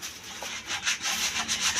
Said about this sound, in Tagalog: Busy po sa pagkukudkud ng tulyase pong nasunugan